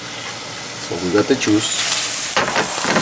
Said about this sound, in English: So that way we can have a nice sear on the scallops.